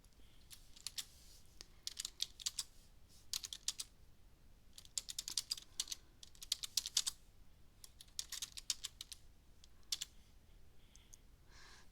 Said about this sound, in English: you need to type I and then enter